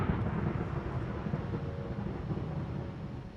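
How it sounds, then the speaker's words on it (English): Minecraft thunder rolls as a steady low rumble through the whole moment, broad and fairly loud with no clear crack, in a Hermitcraft survival world. "It's not even dark or cloudy out and there's thunder."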